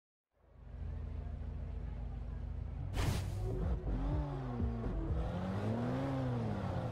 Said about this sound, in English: Lamborghini Veneno, start this sucker up